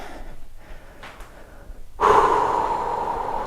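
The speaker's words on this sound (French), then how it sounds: "Soufflez bien." Heavy exercise breathing during a full-body fitness workout: quiet breaths at first, then a strong, sustained forceful exhale blowing out close to the mic.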